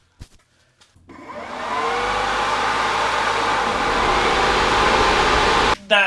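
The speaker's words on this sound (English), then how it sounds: "Oh yeah, that is so much more powerful than the other fans." A powerful car radiator fan, mounted in the center, spins up after a few brief clicks into a loud, steady rushing roar of air that holds for several seconds, then briefly cuts out near the end.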